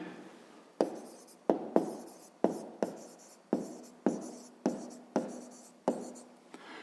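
Pen writing digits on paper during a fifth-grade math exercise: eight or nine distinct scratchy strokes, each a sharp onset fading quickly, close and quiet, with no talking.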